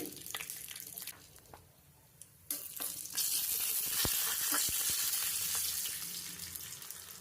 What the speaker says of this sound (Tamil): கொஞ்சமாக நெய் விட்டு நெய் சூடானோடனே முந்திரி